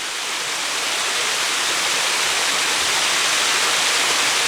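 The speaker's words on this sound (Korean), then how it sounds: "금방이라도 시원한 바람을 일으킬 것만 같은 물소리가" Water flows in clean countryside in Geumsan, South Chungcheong, Korea, a loud, close, continuous rushing roar like a stream or small waterfall, steady throughout with no voices.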